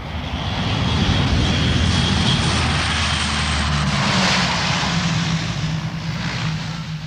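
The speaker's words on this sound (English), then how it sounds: "The next day, the first of the RAF Hercules lands between the bomb craters on a stretch of runway" RAF Hercules transport aircraft landing on a bomb-damaged runway, its propeller engines producing a loud, close, sustained drone with steady low tones and a slight shift in pitch midway.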